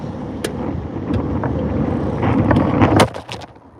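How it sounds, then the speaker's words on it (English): A strong outdoor wind gust buffets the microphone at a trout fishing spot, producing a steady, loud rumbling roar with a few sharp crackles before it eases off near the end. "Big wind gust again"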